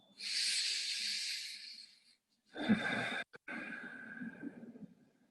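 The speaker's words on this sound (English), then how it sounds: "Let's find 3 more breaths in our butterfly pose." Slow, deep breaths during a yin yoga butterfly pose, heard close up as a long airy inhale followed by a longer, breathy exhale with a brief pause between.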